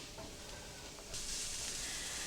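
Peppers and onions sizzling in a skillet for a beefy noodle dish, a soft steady hiss that swells louder about halfway through, alone with no talking.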